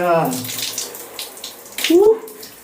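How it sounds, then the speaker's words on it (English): Cold water runs steadily from a tap, loud and close, while a person exclaims and gasps over the splashing. "Okay, I've switched off the water"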